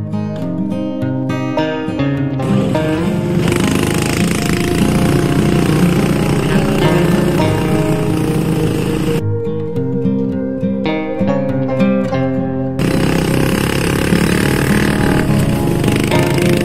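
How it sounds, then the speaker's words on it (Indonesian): A motorcycle straining up a steep, rough mountain road, its engine loud and close with a harsh buzzing drone, shifting in pitch with throttle changes and briefly easing around the middle before pulling hard again. "memaksa motor kami untuk tetap melaju menerkam jalanan yang terjal"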